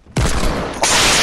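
Gunfire in Fortnite Battle Royale: a sudden loud burst of dense, crackling shots erupting close by and intensifying partway through, sustained for about a second.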